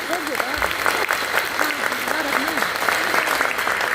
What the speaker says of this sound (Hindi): तो एक बार जोरदार तालियां अपने लिए,